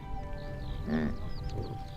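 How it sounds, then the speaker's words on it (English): A yak grunts once in a short, nasal, bleat-like call, with a softer second call following over faint outdoor background noise in the pastures. "Yaks don't moo, they grunt."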